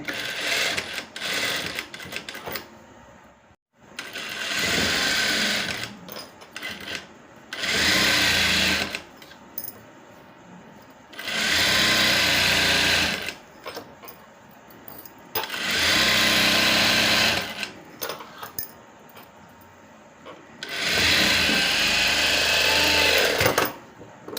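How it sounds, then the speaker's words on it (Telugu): A sewing machine stitches invisible piping onto fabric in several sustained whirring bursts separated by short pauses, loud and close with no talking. "ఇప్పుడు దీనిపైన మళ్ళీ ఇలా కుట్టు వేసుకోవాలి"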